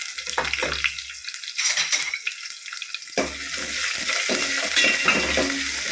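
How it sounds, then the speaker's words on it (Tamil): Finely chopped large onion sautés in a hot pan with curry leaves, sizzling and crackling in bursts that drop out briefly, then return as a steady close frying hiss mixed with stirring. "ஒரு பெரிய வெங்காயத்தை பொடிசா அரிஞ்சதா போடுறேங்க"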